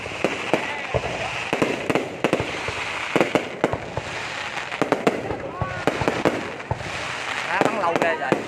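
Dense New Year's Eve fireworks display in Ho Chi Minh City, with rapid crackling bursts and sharp booms firing continuously, fairly loud and close, while people talk and exclaim throughout.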